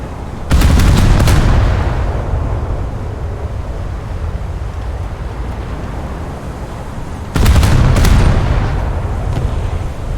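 Two heavy naval gun salvos from a warship in a naval combat game, each a loud multi-round blast with a long rumbling decay, several seconds apart, with no talking.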